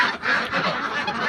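Domestic ducks, suffering from some illness, call in loud, continuous honking quacks, close by and overlapping for the whole stretch.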